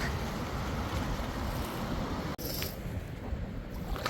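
A boat sloshes through choppy, receding-tide water in a coastal area after a nor'easter, giving a steady close wash of water and wind noise with a brief dropout midway.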